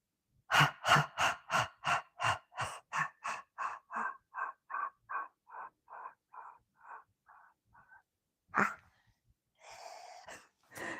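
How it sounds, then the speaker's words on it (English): Slow, deep breaths in and out, repeated around twenty times in a steady rhythm that gradually softens, close to the microphone, followed by a couple of louder breaths at the end. "So you breathe in and out."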